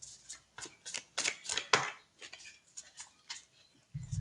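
A deck of playing cards being shuffled, a quick run of crisp riffling bursts close by, followed by a few softer card taps.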